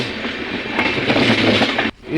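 A long-distance passenger train between Kolkata and Bangalore rumbles steadily as it picks up speed, a loud continuous rolling roar of wheels that cuts off abruptly near the end.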